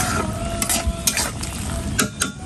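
Curry being stir-fried in a pan, with a home cook working it down before adding fish: steady loud sizzling with repeated scraping strokes of a spoon against the pan, no talking.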